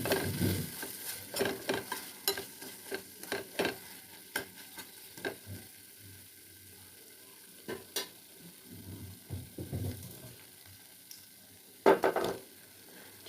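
Spices frying in a pan while being stirred, with soft intermittent sizzling and scraping strokes that come in irregular bursts, growing louder near the end; no voices.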